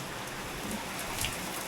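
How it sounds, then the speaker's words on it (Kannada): Heavy rain pouring down outdoors, a dense, steady hiss of drops across the whole clip, fairly faint and continuous with no voices. "ನೀವು ನೋಡ್ಬೋದು ಮಳೆ ತುಂಬ ಜೋರು ಆಗ್ತಾಯಿದೆ"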